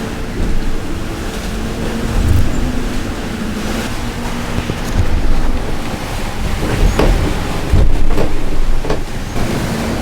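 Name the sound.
sailboat sailing upwind with waves and wind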